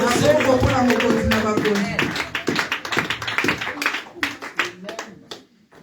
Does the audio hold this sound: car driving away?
no